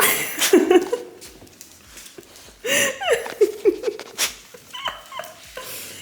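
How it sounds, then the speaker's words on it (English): Dogs eat noisily nearby, with chewing and clattering mixed with soft whimpers and yips in several uneven bursts over faint background noise. "You probably hear the dogs eating everything in the background"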